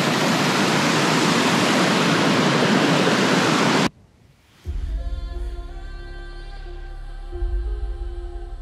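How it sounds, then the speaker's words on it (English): A river in Kamchatka rushes loudly as a dense, steady roar of flowing water for about four seconds, then cuts off abruptly to a low drone with music. "Crossing the river in Kamchatka."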